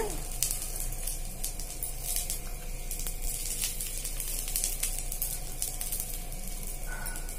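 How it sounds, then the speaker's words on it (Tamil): Unpeeled garlic cloves and cumin seeds fry in a pan for a curry leaf powder, making a constant, moderately quiet sizzle with faint crackles and light stirring sounds throughout. "இதெல்லாம் நல்லா ஃப்ரை ஆகட்டும்."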